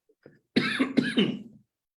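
Someone on a Mexican news talk show coughs twice in quick succession at close range, preceded by a small throat sound, with no speech around it.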